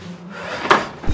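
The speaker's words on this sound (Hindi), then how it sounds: "अबे दरवाजा कौन बजा रहा है?" One or two dull knocks land on a hotel room door, a sharp thud followed by a softer one, close against quiet room tone.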